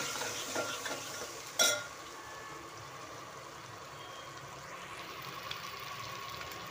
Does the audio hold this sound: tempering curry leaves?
yes